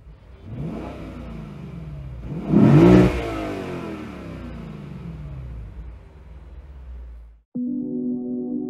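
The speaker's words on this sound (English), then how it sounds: "You can rev it all the way up to the red line anytime you want." A 2023 Lexus IS 500 engine revs twice, the second rise climbing loud toward the red line, then settles into a steady idle before a brief drop and a restart.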